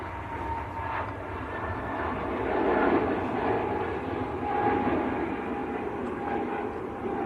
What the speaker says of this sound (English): That is EasyJet to Amsterdam over in the Netherlands.